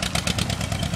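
A Farmall 400 tractor engine runs at full throttle in fifth gear while pushing over a trailer, giving a steady, rapidly pulsing rumble that stays loud and close throughout a single second.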